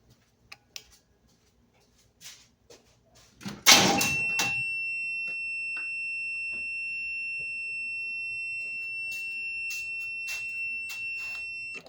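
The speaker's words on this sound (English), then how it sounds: "that is your low battery alarm" A few soft clicks and a short burst of noise, then a jump starter's low battery alarm rings out as a continuous high-pitched electronic tone, loud and unbroken until the end.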